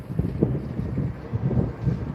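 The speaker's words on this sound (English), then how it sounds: "Yeah, it's windy outside." Gusty wind buffets the microphone outdoors, a steady low rumble with uneven surges and no voices over it.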